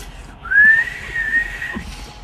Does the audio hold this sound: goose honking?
no